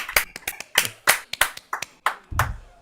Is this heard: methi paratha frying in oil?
no